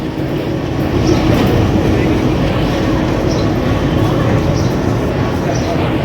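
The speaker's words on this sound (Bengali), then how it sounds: "আমাদের ট্রেন বনলতা এক্সপ্রেসের শান্টিং হচ্ছে এখানে" Banalata Express train being shunted at a station platform, a steady loud rumble of rail cars and engine filling the scene, with a voice talking over it.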